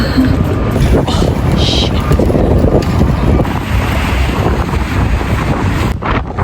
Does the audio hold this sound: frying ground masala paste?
no